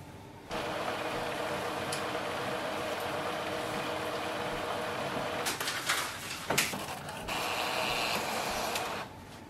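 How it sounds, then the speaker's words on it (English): An Epson EcoTank ET-4850 printer running its automatic printhead cleaning cycle, heard as a steady mechanical whir that runs for about nine seconds, with brief louder clunks and sliding movements near the end. "take around 3 minutes to do the first print head cleaning, and it will print a sheet to confirm if the ink is working properly or not."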